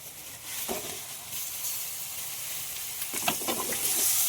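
Chopped onions sizzling in hot oil in a pan for a village-style Telangana chicken curry, a steady close hiss with brief bursts of crackle as they are stirred.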